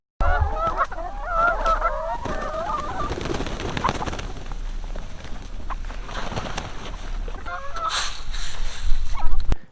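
Farm chickens and other fowl calling near a coop, a mix of honking clucks and squawks, loudest at the start and again toward the end, close and busy, with faint rustling in between.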